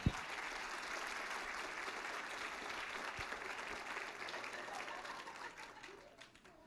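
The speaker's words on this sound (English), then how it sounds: "How about another round of applause for Angela?" An audience at a staff rally applauds steadily, a full room of clapping sustained for several seconds before fading out near the end.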